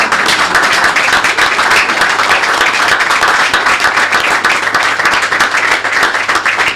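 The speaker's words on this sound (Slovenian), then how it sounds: "Jaz predlagam, da si zaslužite en aplavz." Sustained applause from a talk-show audience in a studio, dense and steady clapping throughout at an even, fairly loud level with no pauses.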